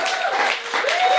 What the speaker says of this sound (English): So let's give a big round of applause for Hatopia for sponsoring